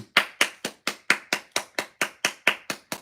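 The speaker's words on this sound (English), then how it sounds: "I should clap for you." Hand clapping, about a dozen sharp claps in a steady, even rhythm, close and fairly loud, with no talk over them.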